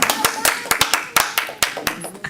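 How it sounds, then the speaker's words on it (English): Scattered claps from a small group at a regular commission meeting following a budget presentation, sharp and close with an uneven rhythm, lasting only a couple of seconds. "That's the first time I've ever gotten applause for a budget presentation."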